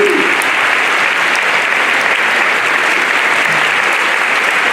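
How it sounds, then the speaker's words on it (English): An auditorium full of people at a high school Veterans Day assembly applauds for veterans, a dense, loud, sustained clapping that fills the whole moment without letting up. "let's give one more big round of applause for all these veterans who are here"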